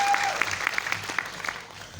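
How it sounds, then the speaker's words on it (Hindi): Audience clapping at a recognition event, a dense patter of many hands held at steady moderate loudness, slightly thinning toward the end. "बस जोरदार ताली सच में इनके लिए होना चाहिए"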